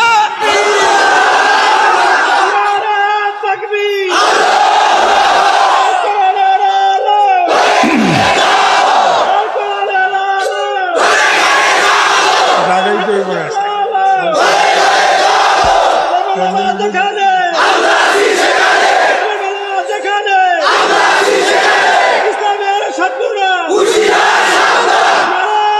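A large crowd roars the Nara-e-Takbir slogan in repeated call-and-response bursts, about eight loud surging chants spaced a few seconds apart, with a leading voice and massed answering shouts filling the space.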